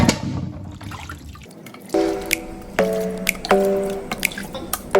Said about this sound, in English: I'm gonna take my meat one by one to put in a pot